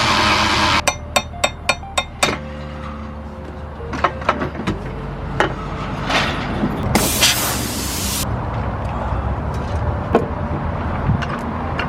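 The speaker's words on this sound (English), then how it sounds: "you can just hammer it out and it should just come off." Sharp metal-on-metal hammer blows knocking out the bottom bolt of a Lexus LS430 rear suspension during an air suspension install, a quick burst of close, loud strikes followed by scattered single hits and a brief hiss of spray.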